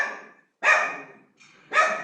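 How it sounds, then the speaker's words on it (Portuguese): A dog barks twice, close and loud, with a short pause between the two sharp barks. "E agora realmente temos som, inclusive com a Kira latindo."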